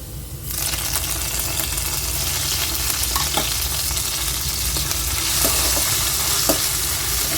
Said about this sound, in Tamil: இப்போ இந்த ஸ்டேஜில் இஞ்சி பூண்டு பேஸ்ட் ஆட் பண்ணிக்கலாம்